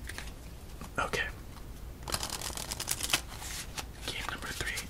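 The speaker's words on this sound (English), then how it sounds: "I say 3 more shuffles. Let's throw in some cuts." A deck of playing cards is shuffled and cut during a quiet solitaire session, giving close, crisp riffles and rustling bursts at low volume.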